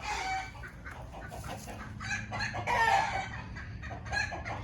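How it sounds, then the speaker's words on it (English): Hens, including a broody hen, cluck and chatter close by on a farm, with a rooster-like call rising in the middle, over a low background hum. "So here is our broody hen who's laying on nothing."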